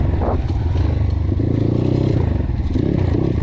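Kaya 612 pit bike engine pulling under throttle while being ridden, a steady loud low drone with rough clattering texture throughout, no voices over it.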